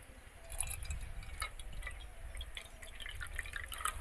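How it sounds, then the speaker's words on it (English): Water trickles and drips into a vessel, with small splashes and droplets sounding faintly and irregularly over a quiet background. "Fill the overflow vessel with water."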